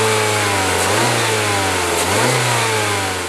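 A 2019 Mazda CX-3 with a tweaked 2-litre Skyactiv four-cylinder engine revs loudly and close by, its pitch rising in two distinct swells over a steady idle-like drone.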